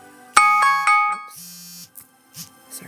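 A phone notification chime for a broadcast message sounds as a short bright tonal ding followed by a second, with a sustained low hum, then quiet with faint shuffling noises.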